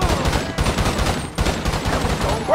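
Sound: gunfire in burst mode in video game GTA 5

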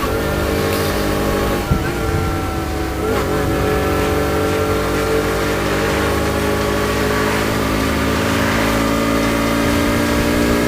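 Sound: Romet Pony 50 moped engine while riding

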